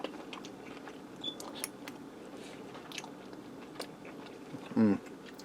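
Someone chews a bite of spicy Cajun sausage close by, giving soft, moist chewing sounds with a few clicks and one louder crunchy burst near the end.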